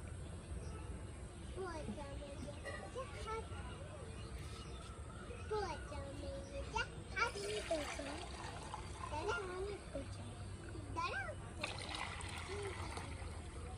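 Bathing at night after a hot day, with soft water splashes and trickles pouring intermittently, quiet and close, while people talk and chatter over the water sounds.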